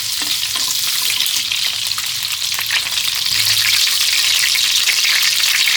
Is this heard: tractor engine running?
no